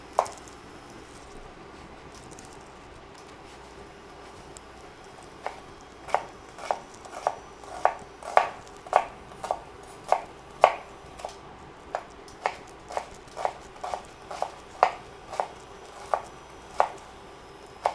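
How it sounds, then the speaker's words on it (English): Knife chopping an onion into small dice on a board, starting after a quiet stretch and then a steady run of about twenty crisp, evenly spaced cuts, close and clear. "Then I cut the onion in small dices."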